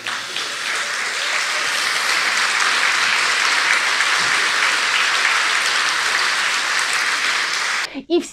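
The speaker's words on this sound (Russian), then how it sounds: "Вот они аплодируют, вот аллилуйя, понимаете?" Sustained, dense applause from a large audience, loud and even throughout without a break, ending abruptly with a short thump at the very end.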